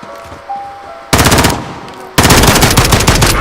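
Loud automatic gunfire in the video game Modern Warfare: a quieter opening burst, then two heavy, sustained rapid-fire volleys that start abruptly and stay close and dominant.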